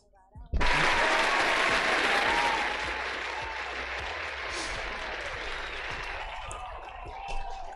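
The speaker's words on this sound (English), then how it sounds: "Which one is the applause?" Applause sound effect played during a casual talk-show podcast episode, starting abruptly and staying loud and dense throughout, with a faint voice briefly audible underneath.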